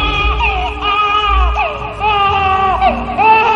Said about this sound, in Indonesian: Yang bersuara seperti ini hanyalah bayi.